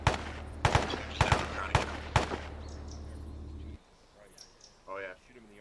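Gunfire in the video game Arma: five or six loud, sharp shots spaced irregularly over a few seconds over a low steady hum, followed by quiet and a brief burst of voice chat.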